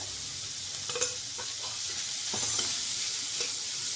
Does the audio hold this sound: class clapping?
no